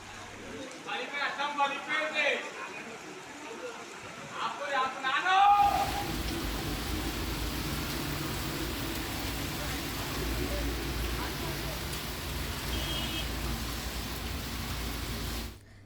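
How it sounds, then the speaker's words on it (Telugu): Heavy, unbroken rain pours over the Pragathi Nagar area of Hyderabad as a steady, dense wash of noise. It follows a few seconds of a voice speaking and continues alone to the end. "ప్రగతినగర్ ప్రాంతాల్లో ఎడతెరిపి లేకుండా వర్షం కురుస్తోంది."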